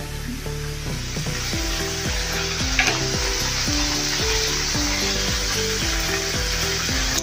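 A wheat flour dosa sizzles on a hot pan in a continuous, even hiss, with rhythmic background music playing underneath.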